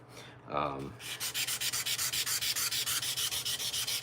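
Steady rhythmic hand sanding, quick regular back-and-forth rasping strokes close by, preceded by a brief faint hum, no voices.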